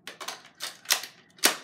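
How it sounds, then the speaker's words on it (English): Nerf shotgun firing foam rounds at an indoor range, a run of sharp, close snapping pops in uneven rhythm, five or six shots with the last the loudest. "It's a shotgun and it takes long to shoot. 3 rounds each time."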